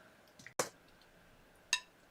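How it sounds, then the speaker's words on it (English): Two wooden drumsticks strike each other twice, sharp isolated clicks about a second apart, close and fairly faint against a quiet background. "this is just the sticks hitting themselves"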